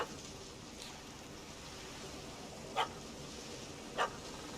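A puppy barks twice, short and faint with a gap of about a second, well in the distance against a steady rain-like hiss and no talk.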